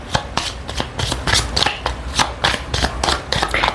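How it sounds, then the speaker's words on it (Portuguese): Tarot cards are shuffled by hand close up, a quick run of crisp riffling bursts and soft slaps repeating about every quarter second. "gosto de embaralhar na presença de vocês novamente"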